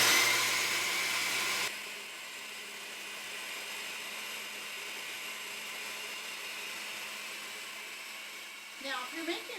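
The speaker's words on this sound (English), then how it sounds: "I'm just going to turn the blender on high and just let it pulverize those nuts really" A blender on high pulverizes pecans and cashews with water, a loud whirring roar that drops to a steadier, lower hum after a couple of seconds and continues to a brief clatter at the end.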